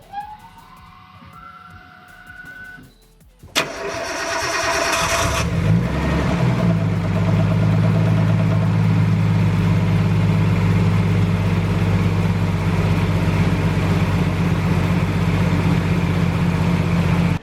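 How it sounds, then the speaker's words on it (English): A Nissan Skyline R33 with freshly fitted braided oil lines cranks briefly, fires up with a loud rev, then settles into a steady, rumbling idle close to the microphone, with no talking. "the last thing that we need to do is start her up and see if she will run and not leak any oil"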